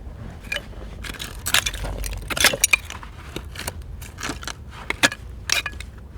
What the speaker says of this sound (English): that is definitely cut glass